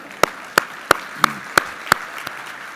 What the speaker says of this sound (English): Clap it up for the teachers one time.